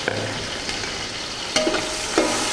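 Ginger garlic paste frying with lightly browned onions in ghee, a steady close sizzle with a few sharp stirring scrapes and clicks against the pan.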